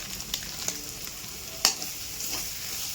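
Paneer masala sautéing in a pan, a soft steady sizzle under occasional scraping stirs, with one sharper clack of the spoon against the pan partway through.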